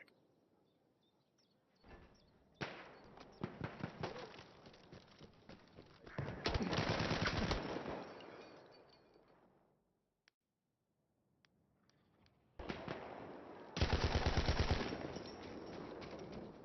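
Bursts of automatic gunfire from Tom Clancy's The Division in a competitive 5v5 Incursions match on PS4, with long rapid volleys separated by short quiet gaps, loud and close with no talk.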